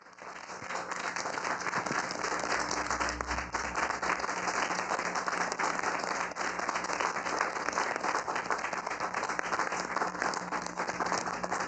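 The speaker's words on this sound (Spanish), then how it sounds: "les pido para cerrar un aplauso para Juan Carlos Hernández Meijueiro." Closing applause at a special commemorative program rises quickly and holds as a dense, even wash of clapping from a sizable audience for over ten seconds.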